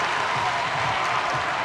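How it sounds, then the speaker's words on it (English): Spectators roar and applaud during a school netball match between Cheltenham College and Malvern College after a goal. The wash of crowd noise is loud and steady throughout the short burst. "you can just hear the crowds roaring, all in support of Cheltenham"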